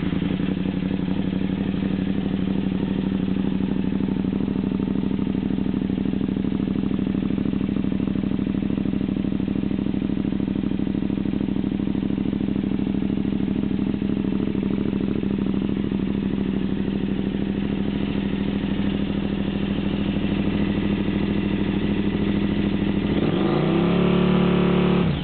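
A KTM 950 SE motorcycle with a custom exhaust and EFI conversion idles with a loud, steady, deep rumble, then blips into a short rev near the end.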